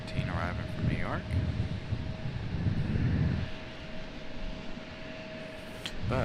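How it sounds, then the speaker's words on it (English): An Airbus A319 airliner arriving from New York at Raleigh-Durham airport rumbles past in stormy weather, its engine roar rising and fading under a voice, with a steady whine and wind noise. "There's our A319 arriving from New York."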